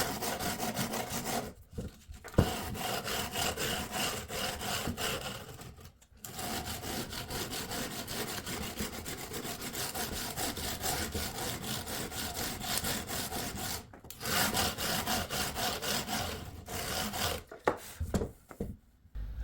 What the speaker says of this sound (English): I've just got some 220 grit sandpaper here, and kind of a block of wood as a backing block